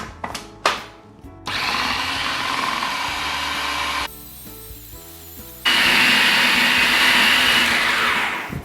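A kitchen blender grinds peanuts into homemade peanut butter, a loud continuous whirring motor drone that stutters briefly at the start, dips in level midway, then surges back to full power.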